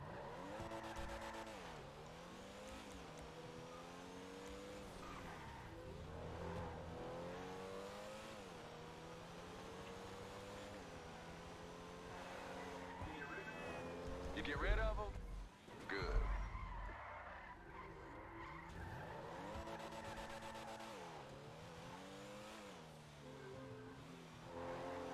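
A car in the video game GTA V Online revs and accelerates through shifting engine tones, with two sharp tire skids midway, loud and continuous.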